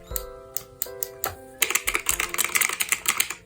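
A mechanical keyboard being typed on up close, first a few slow keystrokes with ringing tonal tails, then a fast, dense run of sharp clicks.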